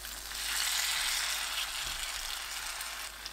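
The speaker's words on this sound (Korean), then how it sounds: "달군 팬에 식용유 두르고 깻잎 올려 중불로 부치세요." Perilla leaves coated in buckwheat batter fry in hot oil in a pan over medium heat, giving a steady close bright sizzle and crackle throughout with no talk.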